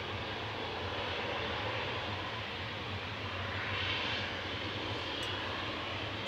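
An Aer Lingus Regional ATR 72 turboprop arriving from Belfast to land at Manchester Airport, a steady moderate engine drone with broadband noise holding evenly throughout.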